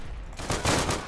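Rapid gunfire from Day of Infamy, a short loud burst of several closely spaced shots following a quieter lead-in, with no one talking.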